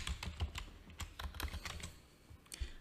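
Quiet typing on a computer keyboard, with irregular bursts of soft key clicks close by and no talk.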